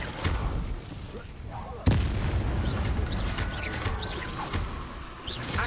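Fire spell Incendio cast in Hogwarts Legacy on PS5: rumbling, booming bursts of flame over busy game sound, with one sharp, loud blast partway through.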